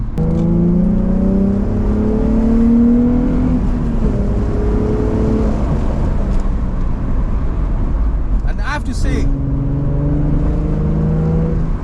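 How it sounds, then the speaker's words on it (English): A 2004 Nissan 350Z's exhaust while accelerating, heard from inside the poorly insulated cabin as a loud, rising engine drone that climbs and settles, with someone talking over it. "the noise is coming from behind us, so it's coming at the exhaust"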